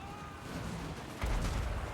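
Mortar and cannon fire from defensive towers in Warhammer 2: Total War, heard as a deep booming impact that thumps in suddenly after a dull rumbling battle din.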